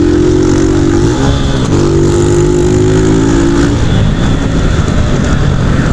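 Loud motorcycle engine revving hard during a wheelie, with steady throttle tones shifting pitch as the bike holds the wheel up, then rougher, broader engine roar toward the end; close and continuous with no talk.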